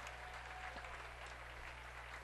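Crowd applause at a NEWMAC men's basketball championship game, a steady dense wash of clapping that holds evenly throughout, heard from within the arena.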